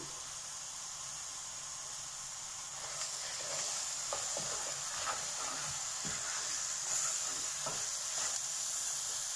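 Fish simmering on the stove, a low steady sizzling hiss with faint bubbling and small pops, quiet and continuous.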